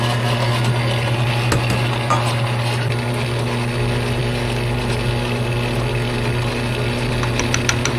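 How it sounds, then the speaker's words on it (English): A Weston 32 electric meat grinder runs continuously while grinding chicken for homemade dog food, giving a loud, steady motor drone with faint rattling and clicking from the mechanism, no speech. "this is a Weston brand grinder. Weston 32 is what it says on here."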